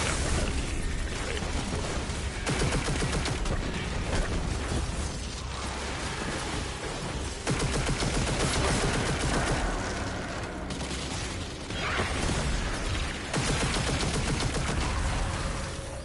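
Sustained gunfire in Destiny 2: dense, loud bursts of rapid shots and blasts fire almost continuously while shooting at enemies, with brief lulls between volleys and no talking.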